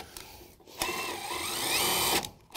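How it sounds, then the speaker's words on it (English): Cordless power drill driving a screw into deck boards on a shaded deck: a single high-pitched motor whine lasting about two seconds, rising as the screw seats, bracketed by short clicks. "I'm gonna burn the screw in"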